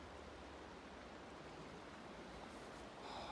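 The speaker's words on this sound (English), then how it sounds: "I love the sound of running water." Running water of a mountain creek beside a snowy winter trail in Banff National Park, a steady soft broadband rush heard faintly and continuously with no voices.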